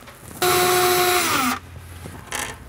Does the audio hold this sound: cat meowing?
no